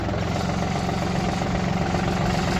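A Yanmar AF-220 Japanese mini tractor's engine runs steadily, a close, loud, even throbbing idle with a low rhythmic pulse and no voices over it.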